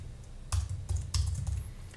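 Computer keyboard typing while code is entered: a quick run of close, crisp key clicks in short bursts, some sharper strokes standing out, with no voice over it.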